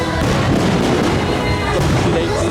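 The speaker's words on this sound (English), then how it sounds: "They don't run the teacups while the fireworks are going." Loud fireworks over Disneyland at night, a continuous barrage of thuds and crackling bursts with crowd noise mixed in.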